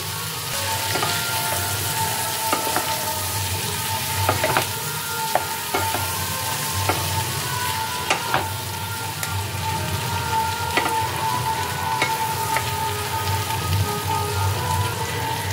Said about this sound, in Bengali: চিংড়ি মাছগুলোকে ভেজিটেবলের সাথে ভালো করে মিশিয়ে